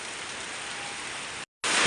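Heavy rain falls in Rajapur as a dense, even hiss, briefly cutting out for a moment before resuming slightly louder.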